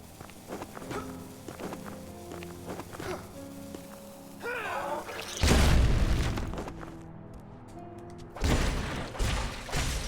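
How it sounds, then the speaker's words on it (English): A loud burst with a low rumble erupts from an exploding body in the dark action game The Last Faith, landing amid quieter game ambience and footstep clicks, followed by a second heavy blast near the end. "Walked into the exploding body"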